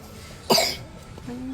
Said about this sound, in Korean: 기침 좀 가리면서